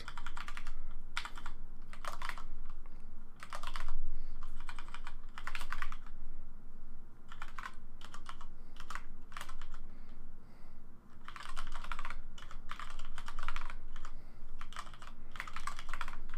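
Bursts of rapid computer keyboard typing come in clusters of quick clicks separated by short pauses, fairly close and clear over a faint room hum.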